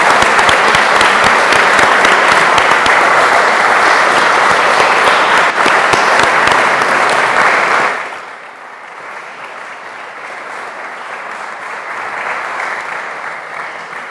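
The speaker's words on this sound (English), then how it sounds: "Final round of applause for all of our candidates." An audience at a Croydon North election debate at St Joseph's College gives the candidates a final round of loud, dense applause for about eight seconds, which then drops to a softer, lingering murmur of clapping and crowd noise.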